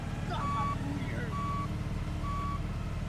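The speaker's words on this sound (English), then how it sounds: "Back those trucks up across the street." Garbage trucks reversing across a street, their backup alarms sounding three separate steady beeps over a continuous low diesel engine rumble.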